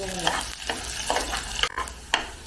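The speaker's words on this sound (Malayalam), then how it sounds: "ഇത് ഉള്ളിയും കറിവേപ്പിലയും ഇഞ്ചിയും എല്ലാം മൂത്തു" Onion, curry leaves and ginger sauté in a pan for a Kottayam fish curry, a soft steady sizzle broken by several scraping stirs of a spoon, with a brief metallic clatter near the end.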